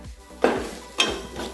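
Chilli, garam masala and turmeric powders being sautéed in a pan make a short stretch of soft sizzling punctuated by two quick metallic scrapes of a spoon against the pan, close and without talk.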